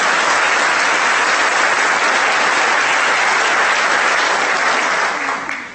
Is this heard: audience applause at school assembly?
yes